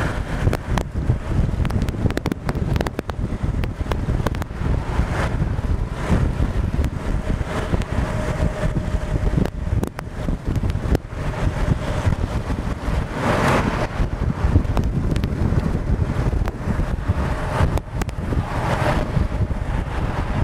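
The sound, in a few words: strong wind on a bridge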